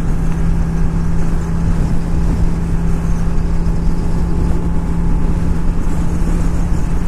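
A Honda Shadow 750 motorcycle engine drones loud and close while riding. The low, steady hum holds an even pitch throughout, with wind noise and no voices.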